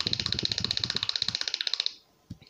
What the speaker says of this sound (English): It's a loud clicking sound.